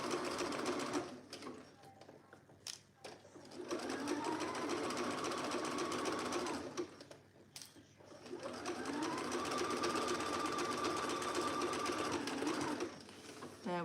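Domestic sewing machine stitching an Alice top, running in two long steady bursts of rapid mechanical whirring with a short pause and handling noises between.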